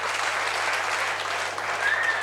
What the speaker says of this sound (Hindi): उनके लिए तालियां बजाइए आप।